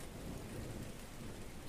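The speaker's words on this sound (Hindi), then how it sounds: "ये है बारिश की बूंदों की फूलों और पत्तों पर गिरने की आवाज।" Rain falls steadily on flowers and leaves as a dense, even hiss, with no distinct drops standing out, fairly faint and continuous, with no voices.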